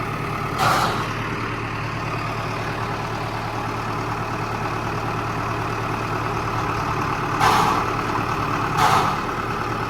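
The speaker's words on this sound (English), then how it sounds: "That tractor must not have enough power to put his foot down on the clutch. That's why it's grinding." A tractor engine runs steadily at a low, constant rumble, close and loud. A few brief, harsher bursts rise over it near the start and twice toward the end, where the clutch may be grinding.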